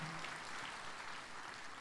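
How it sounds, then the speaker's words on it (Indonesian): Audience at an Indonesian stand-up comedy show clapping in a steady, even wash of applause, fairly faint and distant throughout, with no voices over it. "Silakan tepuk tangan buat ibu-ibu dan wanita yang hadir siang hari ini."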